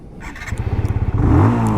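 A TVS Apache RTR 160 2V motorcycle's engine thumps in a quick pulsing beat as it pulls away, then swells into a rising rev close by.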